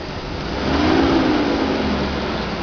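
A car engine revving in the snow as Uncle John tries to back it up, a steady mid-pitched drone rising briefly and then holding, close and continuous.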